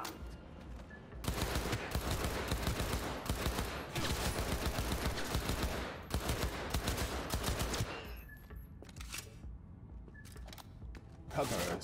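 Dense, sustained automatic gunfire from a firefight in the video game Cyberpunk 2077, loud rapid bursts running almost continuously with short gaps near the end.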